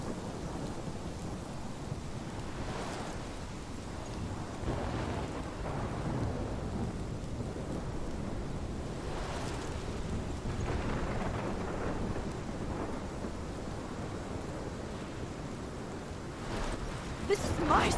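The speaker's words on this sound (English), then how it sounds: "This is my storm." Thunderstorm with steady rain in the video game Life is Strange, a dense continuous wash of rainfall with low rumbling thunder rolling through, building to a louder crack near the end.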